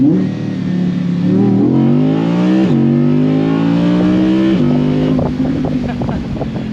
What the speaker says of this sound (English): let's now give it full throttle in the first gear, so we hear all those RPMs